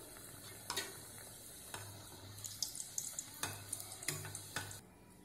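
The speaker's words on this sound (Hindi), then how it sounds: "अभी हमारा तेल भी गर्म हो गया है, इसमें हम समोसा डालेंगे और डीप फ्राई करेंगे।" Samosas deep-frying in hot oil for a ragda samosa chaat, a steady close sizzle with bursts of crackling and splatter spread across the whole stretch, no voices.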